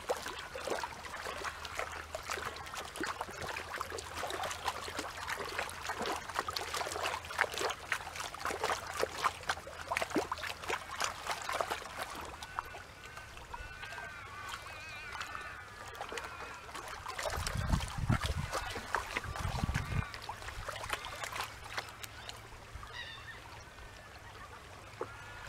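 A gold pan is swirled in a creek, with water sloshing and splashing in steady, repeated bursts close by, under faint outdoor ambience and with no talking.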